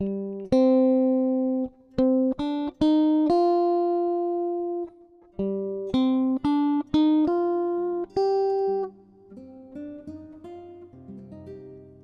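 A simple electronic video game melody steps through a scale of clear tones, each note short and distinct, followed by a softer, lower passage of notes.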